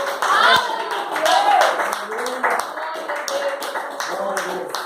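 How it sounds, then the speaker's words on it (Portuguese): Congregation in a Pentecostal church service claps, with sharp irregular hand claps mixed with voices shouting and talking over them. "Pode aplaudir o Senhor."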